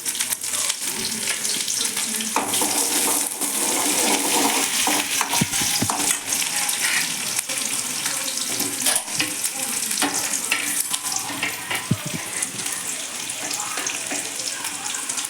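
Mustard seeds, urad dal, green chili and shallots fry in hot oil for a cabbage poriyal, giving a steady, dense close sizzle throughout with occasional faint stirring clicks and crackles.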